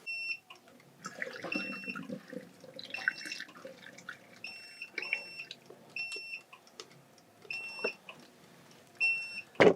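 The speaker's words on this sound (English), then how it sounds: "this sous vide is going to give me a warning bell that the water is a little too low" A sous vide cooker in a home darkroom sounds its low-water warning, a pattern of repeated high electronic beeps in short pairs. Faint water trickling and clinks of handling can be heard underneath.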